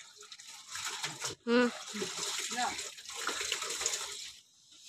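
Tap water runs at low pressure during household washing in a home setting, a fluctuating trickle and splash heard under people talking nearby.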